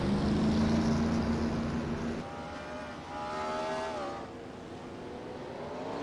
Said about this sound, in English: Cars starting everywhere.